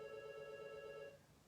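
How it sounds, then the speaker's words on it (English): A telephone rings next door, a faint tonal electronic ring that holds steadily for about a second and then cuts off, with no talking. "Oh, and there goes the phone next door."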